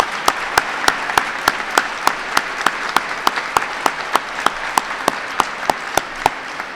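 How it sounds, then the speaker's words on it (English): Ceremony audience applauding Teacher of the Year semifinalists, a long even wash of clapping crossed by a regular series of sharp, loud claps close by, with no talk. "join me in giving a big round of applause to all of our semifinalists"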